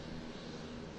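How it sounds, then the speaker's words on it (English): A single-propeller airplane engine roars steadily at close range, a loud continuous drone with no talk over it. "The plane's engine roared, almost piercing my eardrums."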